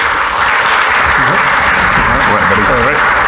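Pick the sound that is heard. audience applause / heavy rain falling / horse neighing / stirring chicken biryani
audience applause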